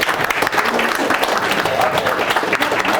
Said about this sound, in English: why don't you all give him a round of applause